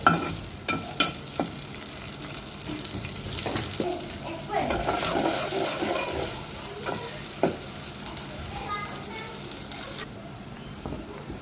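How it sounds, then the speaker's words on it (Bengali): Onions frying in hot oil, sizzling loudly while a utensil stirs and scrapes the pan in irregular knocks, with a brief running-water sound near the end. "পেঁয়াজ আর তেল দিব পেঁয়াজটা ভালো করে ভাজবো"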